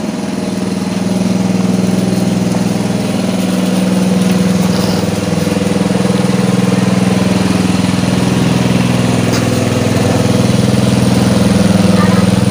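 A small LPG-powered water pump engine runs at a steady idle close by, a continuous even drone with a firm low hum throughout, while someone talks over it.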